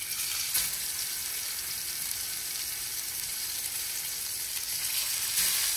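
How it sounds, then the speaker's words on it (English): Pork chops sear in hot oil in a cast iron pan, a dense, even, close sizzle that crackles steadily throughout with no voices. "we're going to add our pork chops and get a nice sear on them"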